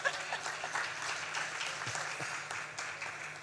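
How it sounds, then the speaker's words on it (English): An audience at a post-budget panel forum applauds steadily for a speaker, a dense, even patter of many hands held at moderate, fairly distant level throughout. "Let's give Professor Sejak a company in clapping for Susan."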